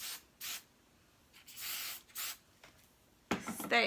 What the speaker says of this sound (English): So then I'll do a little spray.